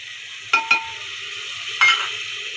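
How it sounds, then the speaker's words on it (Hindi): Onions sizzle steadily in a pan with salt added, while a utensil scrapes through them in three distinct stirring strokes, two quick ones close together and a third a moment later. "प्याज भुनने ही वाली है, बस नमक डाल देना तो जल्दी भुन जाती है"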